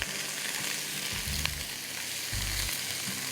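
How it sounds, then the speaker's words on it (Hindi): Matchstick-cut carrots, zucchini and half-boiled peas stir-fried in a pan, a steady close sizzle with low knocks from stirring and tossing the vegetables. "Just stir fry them."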